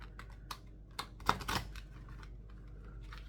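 Someone shuffles a large, new, sticky deck of oracle cards, giving a run of soft, crisp papery clicks and flutters close by. The riffles are uneven and there is no talking.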